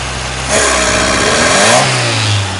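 A Fiat car engine with a choke fault idles close by, then revs up hard into a sustained loud roar before easing back down to a steady idle, with no voices.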